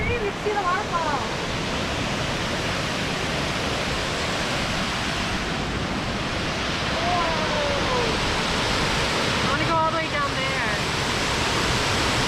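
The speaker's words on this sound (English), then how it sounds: "We're here at Inglis Falls, and there's actually a bunch of falls." Steady, loud rush of water from Inglis Falls, a waterfall with several drops, filling the whole stretch evenly from near by. Faint bird calls and a voice come through briefly above the roar.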